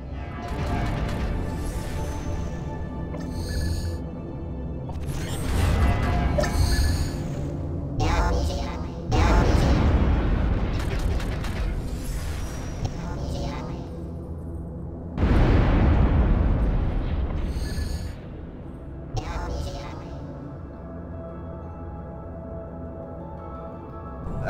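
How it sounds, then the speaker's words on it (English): Artemis artillery units firing in the strategy game Ashes of the Singularity, with several loud booming explosions spread across the stretch over a continuous rumbling battle bed and no talk. "The Artemis is an artillery unit."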